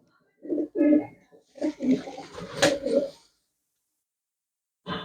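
Pigeons kept as a hobby coo in low, throaty bursts, close by, with short gaps and a louder rustle in the middle, then silence before a final coo.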